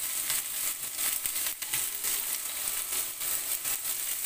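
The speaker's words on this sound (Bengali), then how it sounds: "রসুনটা নেড়ে চেড়ে কিছুটা লালচে করে নিব।" Chopped garlic frying in a pan for fried rice, a steady bright sizzle with occasional stirring scrapes and crackles.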